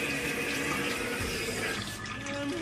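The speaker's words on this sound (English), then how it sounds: "So the purpose of running through the cold water is to wash away those greasiness." Cold tap water runs steadily through a mesh strainer, rinsing pho ingredients in a sink; a continuous close splashing stream that stays loud and even throughout.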